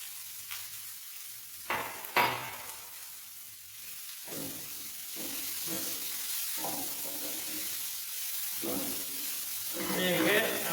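Mushrooms tipped into a hot pan of vegan curry base with coriander, sizzling and hissing close by, with intermittent stirring and scraping that build into a louder fry toward the end; a voice talks at times.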